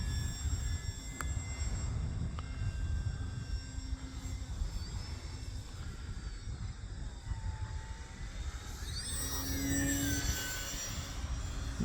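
A Yak 55 model airplane flies with its engine pushed toward full throttle during 3D-style flying, a steady moderate engine drone with whines that shift in pitch as it passes, no talk.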